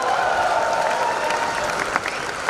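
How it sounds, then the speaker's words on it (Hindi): Loud, dense applause from an audience at an Amway Diamond recognition ceremony, sustained evenly from start to finish with no pauses. "जोरदार तालियां।"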